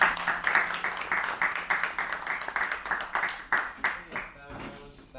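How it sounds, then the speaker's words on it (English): Audience at a talk claps in a round of applause, distinct rhythmic claps from a modest group that are strong at first and then thin into scattered, fading claps near the end. "Round of applause."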